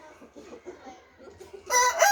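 Hens cluck softly in a series of low calls, then a rooster crows loudly and close at the end.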